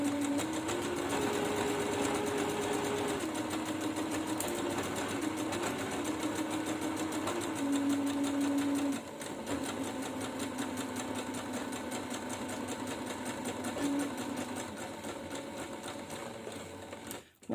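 A sewing machine runs steadily and close, stitching the long top edge seam of a cloth face mask, its motor whirring with rapid needle clatter and slight pitch shifts, pausing briefly near the end.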